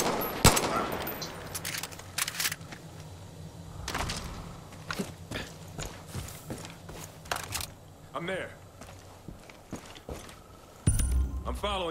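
Bursts of automatic gunfire and single shots in the Far Cry 5 video game, loud and close, with scattered impacts and footsteps between volleys and a voice speaking briefly.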